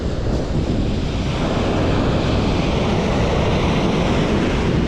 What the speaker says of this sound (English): these waves are making it interesting